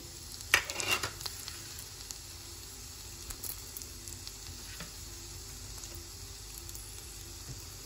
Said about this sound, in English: At this point, I'm going to add the cumin seeds and fenugreek seeds.